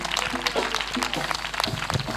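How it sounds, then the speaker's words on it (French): A congregation at a Christian worship gathering bursts into applause and cheering, a dense, steady wash of clapping mixed with raised voices. "Acclamation."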